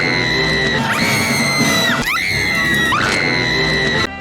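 A woman's shrill, sustained screams from the 1989 Batman film, several long high-pitched wails in quick succession over a loud, busy action-scene backdrop.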